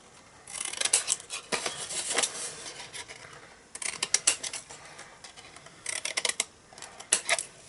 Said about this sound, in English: we're going to cut at a bit of an angle like that, so cut this short.